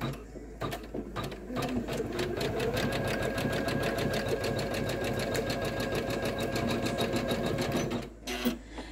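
An embroidery machine sewing a bean stitch with yarn runs steadily and close by, its rapid needle clatter holding a fast even rhythm for most of the clip before stopping near the end.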